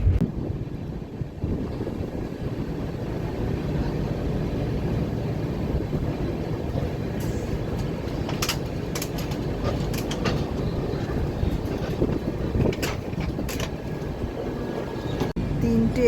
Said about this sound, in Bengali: ট্রেন বেশ ভালোই স্পিডে যাচ্ছে, আর এখনও অবধি একবারে অন টাইম যাচ্ছে।